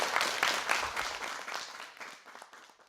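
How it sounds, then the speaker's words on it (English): Short burst of audience applause at a school spelling competition, dense clapping that fades out over a few seconds. "Round of applause for you again."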